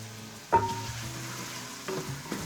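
Onions fry in a pan for Bolognese, a soft steady sizzle with a few distinct knocks and scrapes of stirring.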